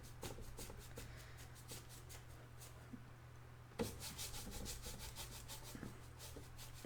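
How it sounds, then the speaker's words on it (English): A brush scrubs oil paint into canvas in quick, rhythmic, raspy strokes. They are close and fairly quiet, stop for about a second partway through, then start again, and no voice is heard. "Just scrubbing this color."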